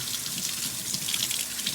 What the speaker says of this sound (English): Let me just get in there and get some warm water on my hands.